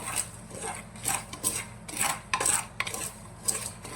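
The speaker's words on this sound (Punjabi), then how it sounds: "ਹੁਣ ਆਪਾਂ ਛੋਲਿਆਂ ਨੂੰ ਚੰਗੀ ਤਰ੍ਹਾਂ ਹਿਲਾ ਲਾਂਗੇ ਜੀ ਤਾਂ ਕਿ ਇਹਨਾਂ ਤੇ ਨਮਕ ਦੀ ਕੋਟਿੰਗ ਹੋ ਜਾਏ" Black chickpeas tossed with salt in a cooker over a high gas flame, heard as repeated metallic scraping and gritty rattling from a spoon against the pot, close and irregular, without speech.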